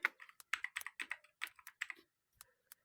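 Quick run of keystrokes on a computer keyboard while searching for Excel, light crisp clicks in a fast irregular burst, then a pause and two final taps, close and quiet.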